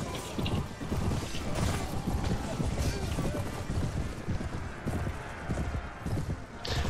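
A horse gallops in the Mount & Blade Warband video game, its rapid, rhythmic hoofbeats pounding steadily under wind noise and a speaking voice.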